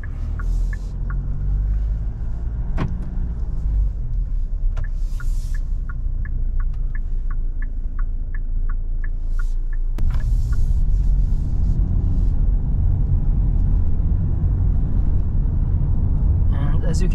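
A Kia Sportage LX 2.0 diesel AWD pulls away, heard from inside the cabin as a steady engine and road rumble. A run of regular light ticks sounds partway through, and someone talks over it.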